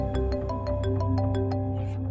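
A phone rings in a home in a Pakistani drama short: a repeating electronic ring tone pulsing steadily about six times per second-and-a-half, moderately quiet and alone, ending in a brief rustle.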